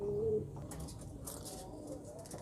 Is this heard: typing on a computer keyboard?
no